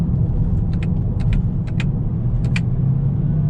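A 2020 Toyota Corolla with a CVT hums at a steady low drone from the cabin while downshifting, with a few faint light clicks or taps scattered over the engine noise.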